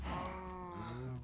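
A single Minecraft cow gives a drawn-out, low, fairly quiet moo.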